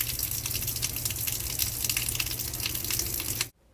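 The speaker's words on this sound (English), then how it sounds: "the sound of pouring rain" Pouring rain, a continuous dense rushing hiss of falling water, steady and fairly loud, cutting off abruptly at the end.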